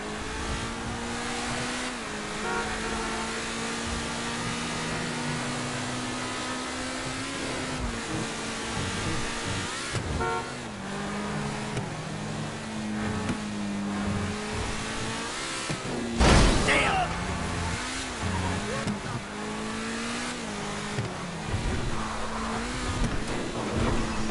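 Car engine droning and revving in GTA 5 gameplay, a steady loud motor hum with rising and falling pitch shifts throughout, plus a sharp burst around the middle and faint voice underneath.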